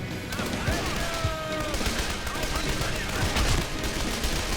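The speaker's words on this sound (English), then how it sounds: "Switch to our heavier MG." Heavy machine gun fire in the World War II strategy game Men of War, with dense overlapping bursts and scattered gunshots rolling continuously through a loud battle.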